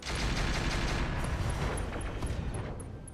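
Explosions and heavy weapon fire from mech combat in the video game RogueTech, a dense, loud continuous blast of rumbling booms lasting the whole moment.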